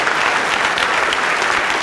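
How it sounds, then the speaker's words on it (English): An audience applauds steadily at a speech event honoring baseball's Pete Rose, a dense, even clapping crowd filling the whole moment at close range. "Everybody, if we can, have a round of applause here."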